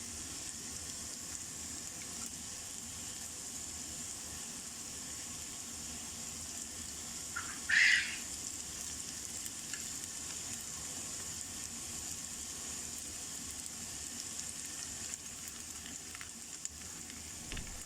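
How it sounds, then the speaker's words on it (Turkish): Quiet, continuous sizzling of Damascus kebabs frying in a pan, with one brief clatter partway through. "Bu şekilde hepsini kızartacağım şam kebaplarını."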